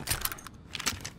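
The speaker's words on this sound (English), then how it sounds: "Changing mag." Magazine change in Call of Duty Modern Warfare: a short run of quiet metallic clicks and rattles, two clusters of handling noise close together over about a second, with no talk.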